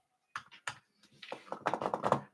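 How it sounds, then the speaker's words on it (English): Keys being tapped on a laptop keyboard, a few scattered clicks at first, then a quicker run of typing, close by. "Now I'm just tapping on the board."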